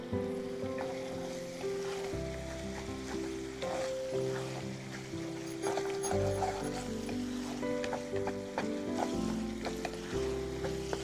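Spices fry in oil for a spicy fish gravy, a faint steady sizzle and occasional stirring scrapes sitting under louder background music.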